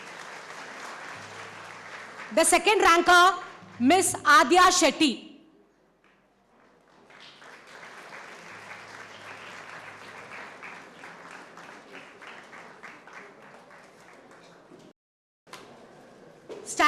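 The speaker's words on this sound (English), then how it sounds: "Parents, please applaud each and every child." Parents clap for pupils at a school annual day at VPM's BRTOL English High School in Mulund, with a steady round of applause at the start and another long stretch later, and a voice announcing a prize winner in between.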